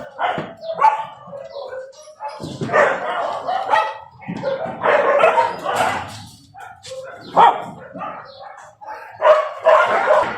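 Several dogs bark and yip in bursts at feeding time, loud and close, with overlapping barks spread through the whole stretch and a little talk mixed in.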